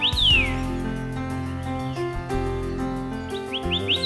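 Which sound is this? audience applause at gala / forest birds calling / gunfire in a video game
forest birds calling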